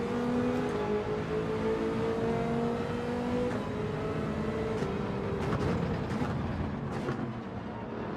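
A race car engine in Gran Turismo 7 drones and revs steadily with shifting pitch, loud and continuous, with brief mechanical clicks near the end and no talk.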